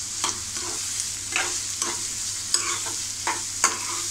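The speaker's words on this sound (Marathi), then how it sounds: "तर कांदा आपल्याला थोडा गुलाबी रंग येईपर्यंत परतायचा आहे." Onion sautéing in a pan for prawn masala sizzles steadily while a spoon stirs it in a series of scraping strokes, close and fairly loud with no talk.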